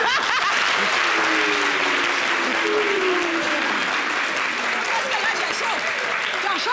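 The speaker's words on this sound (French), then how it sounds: "merci d'applaudir" Studio audience on a French-language TV show claps in steady, sustained applause, with faint voices and a little laughter mixed underneath.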